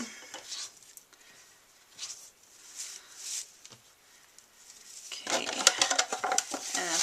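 Silver shreds mixed by hand for a surprise bottle, light rustling and crinkling in uneven bursts that grow busier and louder toward the end, close and fairly quiet.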